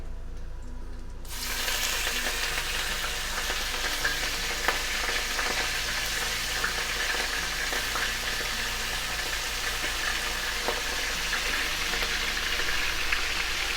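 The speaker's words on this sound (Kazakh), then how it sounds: "Майымыз қызғаннан кейін етті саламыз." Meat sizzles and crackles in hot sunflower oil inside a cauldron, starting with a sudden loud burst after a quiet first second, then a steady dense frying hiss with occasional pops and stirring scrapes, close and without talk.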